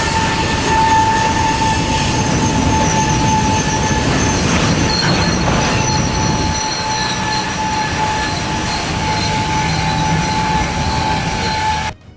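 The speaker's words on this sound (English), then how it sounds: "Norfolk Southern train 173 barrels toward a tractor trailer stuck on the tracks." Norfolk Southern train 173 barreling toward a tractor trailer stuck on a crossing, a loud continuous rumble of railcars with steady horn-like tones and squealing wheels, close and building until an abrupt cutoff at the end.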